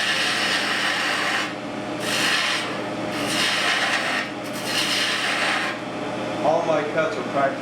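Abrasive sanding against a spinning turned wood piece on a lathe makes a continuous, fairly loud rasping hiss that swells and eases in waves over a steady motor hum.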